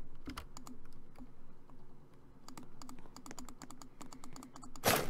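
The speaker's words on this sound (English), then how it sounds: "So we just have to keep clicking." Repeated mouse or keyboard clicks while mining in the Roblox video game, a quick irregular series of sharp taps, close and fairly quiet, ending in a louder burst.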